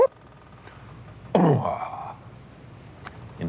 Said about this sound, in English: a tiny fragment of a long whale song might sound like this.